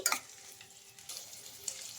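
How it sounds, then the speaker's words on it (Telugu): Potatoes fry with a spice tempering in a pan, a quiet sizzle with light scraping as a spoon stirs now and then. "ఈ ఆలులోకి ఈ పోపు అంతా బాగా పడుతుంది"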